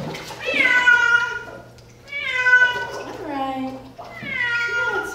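A male cat in a hydrotherapy tank gives three long, loud drawn-out meows close by, separated by short pauses, with a soft low background hum.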